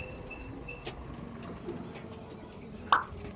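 Soft, low cooing from fancy pigeons on a rooftop murmurs under steady background hum, with a single brief louder call near the end.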